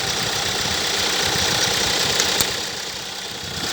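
A 2015 Hyundai Accent Blue CRDi diesel with a 7-speed DCT idles with its hood open, its steady engine hum carrying a rhythmic camshaft ticking and a brief sharper tap midway, heard close with no talking.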